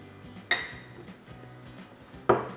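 Pots are shifted around on a kitchen stovetop, giving two sharp metallic clanks about two seconds apart over a quiet background.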